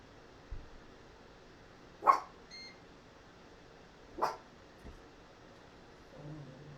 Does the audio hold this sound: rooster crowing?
no